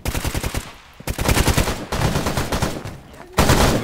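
Machine gun fire in the video game Stalker Gamma, rapid automatic bursts, loud and close, broken by short pauses, with dense crackling shots across the whole stretch.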